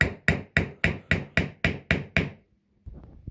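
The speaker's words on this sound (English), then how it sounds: "Now we just take the plastic hammer and knock on it." A plastic hammer knocks on the front air suspension strut of a 2016–19 Tesla Model X or S, giving eight evenly spaced, sharp, close knocks, then a short pause and a softer follow-up thump.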